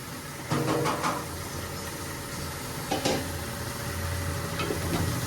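Kakkaracchi meat being stirred into a sizzling gravy in a pan, with a steady sizzle throughout and a few scraping stirs and knocks, close and clear, with no talking.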